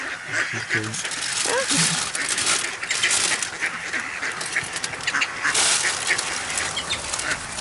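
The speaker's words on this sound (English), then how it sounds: "Oh, the duck's moving." Duck quacking in an outdoor setting while a dog is out on a walk, short quacks scattered over steady background noise and people talking nearby.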